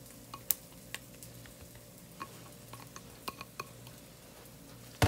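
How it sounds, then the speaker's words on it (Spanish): A spoon stirs a mixture of shredded cabbage and carrot in a bowl, faint soft scraping with scattered light clicks and taps against the dish. "estoy mezclando el repollo y la zanahoria"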